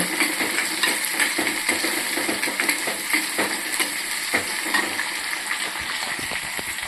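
Onions frying in a pan for fish curry, a steady, bright sizzle with watery crackle that holds an even level throughout, small stirring clinks and pops scattered through it and no voices.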